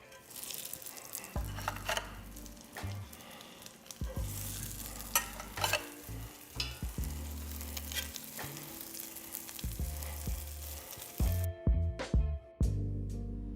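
Salmon croquettes frying in a pan, a steady sizzle broken by repeated scraping and stirring clatter as the patties are placed and moved, with a quieter stretch near the end.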